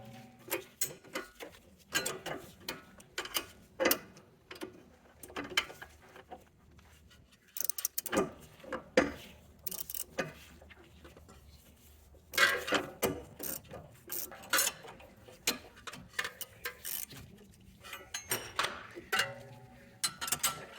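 A ratchet tightens the sway bar link nut on a 2011-2017 BMW X3 F25, giving bursts of quick clicking strokes with pauses between, close and crisp with occasional metallic knocks.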